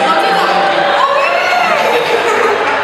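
A crowd of Galway supporters cheers and shouts at an Irish coffee making championship, a steady loud wash of voices and whoops that holds throughout.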